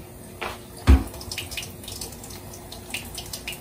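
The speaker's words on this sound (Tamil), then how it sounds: "போட்டு இந்த பாட்டில் வந்து நல்லா வாஷ் பண்ணிடலாம்" Water runs from a kitchen sink tap while a bottle is washed with dish washing liquid, with a steady splash and a few sharper clunks and knocks of handling.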